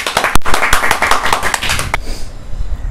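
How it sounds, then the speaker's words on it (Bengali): A short burst of audience clapping in a classroom-style setting, quick dense hand claps for about two seconds that stop abruptly, leaving quiet room tone. "তাহলে একটা ছোটো করে হাততালি হয়ে যাক"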